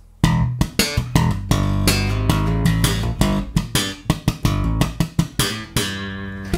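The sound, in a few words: slap bass riff with ghost notes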